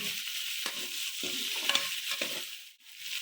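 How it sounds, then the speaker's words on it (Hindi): Cumin seeds, about half a spoon, roasting in a pan while cooking chicken pulao, giving a steady dry sizzle with soft stirring scrapes throughout, close and moderately loud, no voices. "अब इसमें जाएगा जीरा, हाफ स्पून के बराबर जीरे को भी थोड़ा सा साफ भून लेंगे अच्छी तरह से।"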